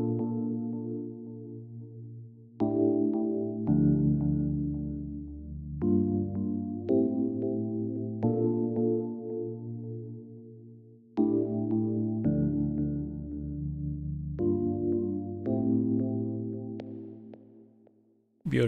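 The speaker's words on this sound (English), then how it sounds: "with this beat, Epiano as always, it sounds like this." A mellow electric piano plays sustained chords for a chilled Amapiano beat made in Logic Pro X, soft repeated voicings changing every few seconds with gentle attacks and long decays, alone without voices.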